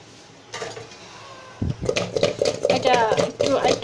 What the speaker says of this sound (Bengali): একটু ভালো করে মিশিয়ে নিচ্ছি।